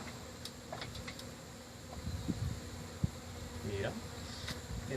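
Bees buzzing at a beehive during night removal, a dense, steady hum close by with faint scattered knocks and a sharp tap partway through.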